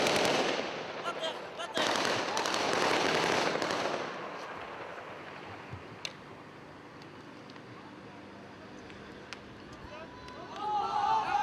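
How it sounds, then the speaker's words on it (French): Gunfire during a military operation, dense crackling bursts of shots at the start that give way to scattered sharp reports over murmuring voices and background commotion. "une confusion se produit à l'occasion d'un échange de coups de feu"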